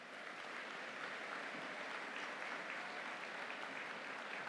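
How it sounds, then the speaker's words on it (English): An audience at a spring university convocation ceremony claps steadily, a broad even wash of applause heard from a distance and sustained throughout, with no voices over it. "I think he deserves a big round of applause"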